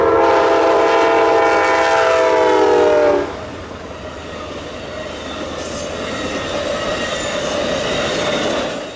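An Amtrak passenger train rushes past close by, its horn blaring for a few seconds before the steady roar and clatter of the cars continue.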